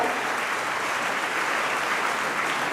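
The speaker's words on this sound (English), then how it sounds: "let's give a huge round of applause for all the senior citizens" An audience at a school alumni gathering, the 1977 batch of Assisi Convent School, gives senior citizens a brief, even burst of loud, dense clapping with no talk over it.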